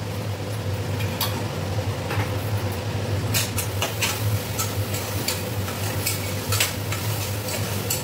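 A tomato mixture seasoned with salt, chili powder and green chilies fries in a pan, with a continuous sizzle, occasional stirring scrapes and clicks, and no voices.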